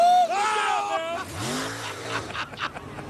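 A drag race car pulls a wheel stand at a wheel standing competition in Muncie, Indiana, its engine roaring and revving loudly up and down, with tire squeal amid broad crowd noise.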